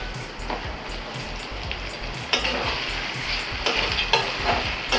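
Chickpeas with a little grated coconut are stirred in a hot frying pan, giving a steady close sizzle with scraping strokes and soft clatter throughout, no one talking.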